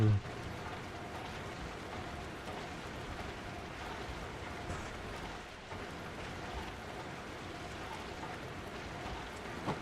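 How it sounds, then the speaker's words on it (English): Steady rain falls in Minecraft as a dense, even hiss that runs throughout at moderate level, with no distinct drops or thunder standing out. "right now it's raining"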